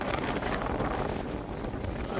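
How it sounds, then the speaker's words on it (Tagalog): Strong northeast monsoon wind blowing over the water on a boat heading home, a steady loud roar of wind buffeting the microphone without pause, with no voices. "lakas pa ng hangin ng amihan"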